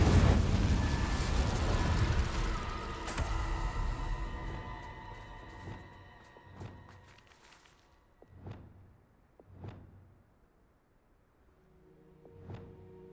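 Spell blasts in Hogwarts Legacy, including Confringo and Incendio explosions, open with a loud rumbling burst that fades, followed by several separate thuds and pops spaced a second or two apart.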